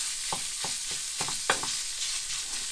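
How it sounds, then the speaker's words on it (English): Steady sizzling of scrambled eggs frying in a pan, with a spatula scraping and stirring in a loose, repeated rhythm of soft knocks. "Just keep frying it and mixing it around."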